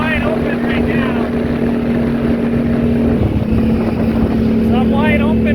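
A vehicle engine held at wide open throttle, a loud, steady, droning roar with a constant tone that barely shifts, close and continuous throughout, with faint talk underneath.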